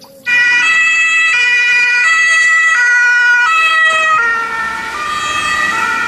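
A yellow toy ambulance plays a loud electronic siren, its two tones alternating in a steady rhythm, close and alone for several seconds.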